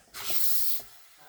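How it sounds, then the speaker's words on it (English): Steam vents from an Instant Pot's pressure release after cooking hard boiled eggs, a loud, close burst of hissing lasting well over half a second before dropping back to quiet. "So we'll go ahead and let all of the steam out."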